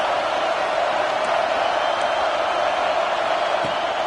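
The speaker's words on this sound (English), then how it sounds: "This crowd trying to make life miserable for this offense." Dense, steady roar of a large stadium crowd at a football game, loud and continuous throughout with no individual voices standing out.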